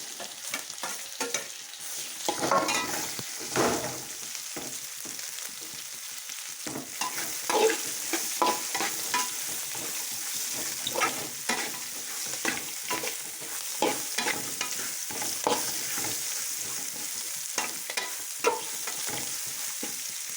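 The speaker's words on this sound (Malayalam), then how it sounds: "വെളുത്തുള്ളി പച്ചമുളക് എന്നിവയൊക്കെ ഇളക്കി നേരം ഉള്ളിയിടും" Onions, ginger, garlic and green chili sizzle in a hot pan for a Kerala-style country chicken curry, with a steady frying hiss and frequent scraping stirs, close and with no voices.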